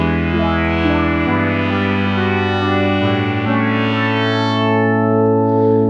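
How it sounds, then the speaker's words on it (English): Sequential Prophet 6 polyphonic synthesizer playing sustained chords with oscillator pulse width modulation, rich buzzy tones shifting in timbre as notes change, loud and clean with no voices. "And this also could be affecting like the shape of oscillator 1. And a pulse with modulation."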